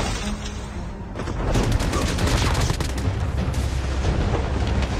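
Rapid bursts of M4 gunfire in Call of Duty Mobile crackle continuously and loudly, layered with booming shots in a dense, chaotic firefight.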